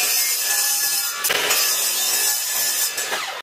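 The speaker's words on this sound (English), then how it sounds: "Now I'm going to take them to the chop saw." A chop saw cuts through a wooden board in one continuous, loud, close whining pass with a brief dip midway, ending abruptly as the blade finishes.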